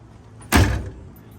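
Driver's side door of a 1964 VW Beetle, sound-proofed with peel-and-stick deadening, shuts with a single solid thud, close and fairly loud, then a short fading rumble.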